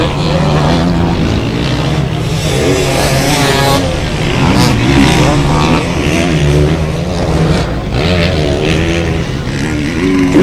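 Suzuki and Kawasaki motocross motorcycles racing at an afternoon meet in Pilot Mound, giving a continuous loud engine drone with revving pitch swings and a commentator talking over it.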